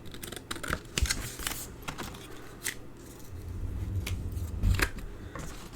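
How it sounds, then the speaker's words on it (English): Non-stick scissors trimming card stock for handmade Christmas cards, giving a series of crisp snipping cuts close by, irregular and alone with no talk. "These are non-stick scissors,"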